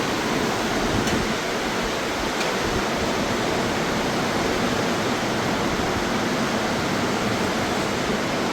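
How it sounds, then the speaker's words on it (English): Powerful rushing water of the Fraser River at Hells Gate in British Columbia, a dense, unbroken roar filling the scene at steady loudness from start to finish, with no voices. "Not sure how well you can hear the water, but you can hear the power of it."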